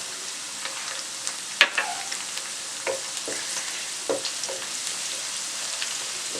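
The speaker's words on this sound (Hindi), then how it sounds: "चंद सेकंड के लिए इनको फ्राई करें।" Green chillies fry in a pan with a soft, steady sizzle, and a few sharp clinks and stirring knocks from a utensil sound up close.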